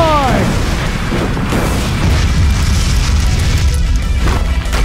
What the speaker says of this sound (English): Fire Dragon Sword Horn!